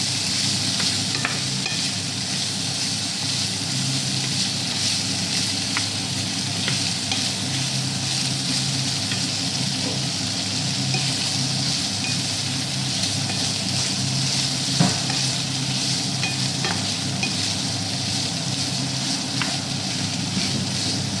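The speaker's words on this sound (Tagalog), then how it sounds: "Haluin natin yung isdal para maluto yung ating hipon." Prawns stirred steadily in a frying pan with a little olive oil for prawn tikka rice, a continuous close sizzle with soft scraping of the spatula throughout and no talking.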